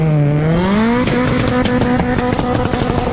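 A Volkswagen Polo IV GTI hot hatch with a 1.8-liter turbocharged four-cylinder engine pulls away, its engine note rising steadily through the revs, loud and close, with no talk.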